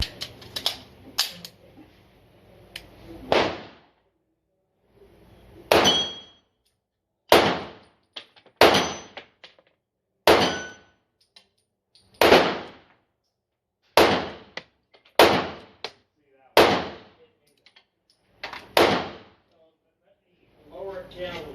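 Gunshots from a 9mm pistol ring out at an outdoor shooting range, about a dozen loud, sharp cracks fired singly at irregular intervals of one to two seconds, each followed by a brief decay, with quiet gaps between.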